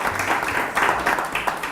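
Short burst of applause for Kevin, the chef at an Italian pizzeria and restaurant, a mid-sized group clapping in a dense, steady patter with a few louder swells.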